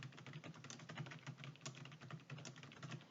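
Steady, fast typing on a computer keyboard while entering document text in a Korean word processor, with dense, even keystrokes running throughout at moderate, close level and no talking.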